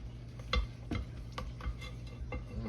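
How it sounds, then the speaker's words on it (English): A spatula scraping sweet potato pie batter down the sides of a bowl, making a series of quiet, irregular scrapes and taps close up, about five distinct strokes over soft background. "we're gonna scrape this down here again"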